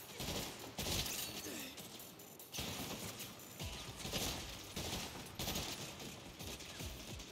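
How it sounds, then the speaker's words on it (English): Sniper and rifle gunfire in the Saints Row video game during an assault on the Marshal HQ, a dense ongoing fusillade of loud cracks and crashes that swells and dips over several seconds with no talking. "Snipers are pinning us down."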